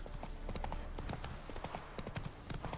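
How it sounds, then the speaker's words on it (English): Horse hooves clip-clop at a steady trotting rhythm in The Witcher 3, a continuous run of hoofbeats over a busy game backdrop, with faint voices underneath. "that's a horse there"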